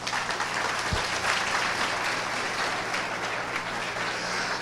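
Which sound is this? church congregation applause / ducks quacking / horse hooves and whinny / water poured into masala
church congregation applause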